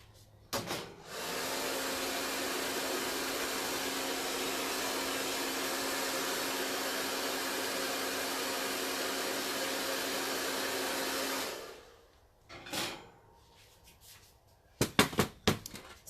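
A hair dryer blows on wet paint on a DIY vinyl-stencil sign, a loud steady whir for about ten seconds that then cuts off, followed by a few clicks and knocks.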